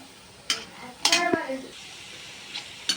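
Potato bajji frying in a pan of oil, with a soft sizzle under a few sharp, close utensil clinks and a short burst of louder activity near the middle.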